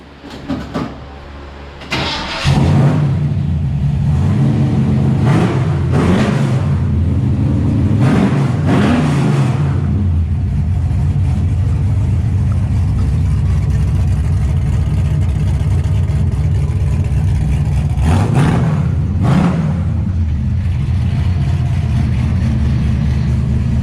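A 1967 Mustang with a 347 stroker V8 built on a 351 block cranks briefly, catches, and settles into a loud, close idle, with a few throttle blips swelling and fading before it returns to a steady rumble.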